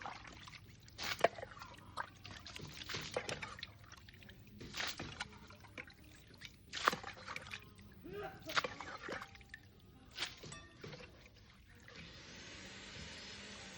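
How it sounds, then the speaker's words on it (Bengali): Water splashed by hand out of a drain during a 90mm PVC pipe repair, with irregular sloshing and splattering bursts at close range, interrupted by brief pauses, and a person speaking intermittently. "জলটা আমি হালকা করে ড্রেন থেকে ছিঁচে দিচ্ছি।"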